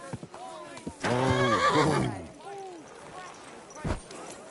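A horse in the video game Kingdom Come: Deliverance II gives a loud, drawn-out whinny lasting about a second, followed by quieter snorts and a few hoof thuds.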